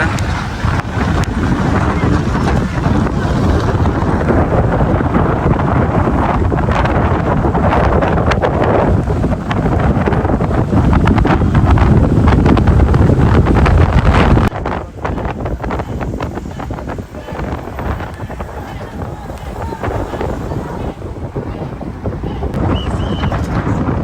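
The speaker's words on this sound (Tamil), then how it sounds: "அங்கேருந்து வந்து ஒரு ரெண்டு படகு ஓடி வருது வருங்க" Two boats pass near the Pamban rail bridge at sea, heard amid heavy wind buffeting and a continuous rushing, watery roar that eases partway through.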